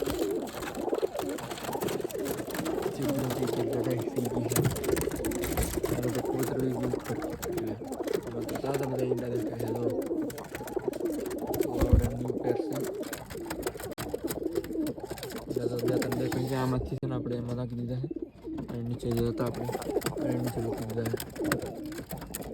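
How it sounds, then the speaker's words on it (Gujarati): Several pigeons coo in soft, rhythmic repeated phrases close by, overlapping one another against a light background hum. "આમાં પણ એક કબૂતર બેઠો છે"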